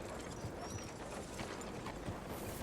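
Faint, steady clip-clop of horse hooves on a hard surface in the video game Red Dead Redemption 2, in the city of Saint Denis, a soft rhythmic walk beneath quiet background noise.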